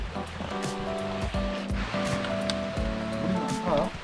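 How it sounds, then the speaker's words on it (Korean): Snowmelt rushes along a stream on Bukhansan mountain in early spring, a steady close watery rush that fills the whole scene while faint voices murmur underneath. "눈이 지난번에 많이 온 게 녹아서 이런 거예요 이거"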